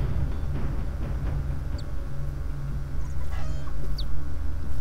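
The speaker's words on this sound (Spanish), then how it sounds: "¡Uy, pollito!" Chicken clucking from the zombie survival video game The Walking Zombie 2, a few short bird calls over a steady low game soundtrack rumble, with no talking.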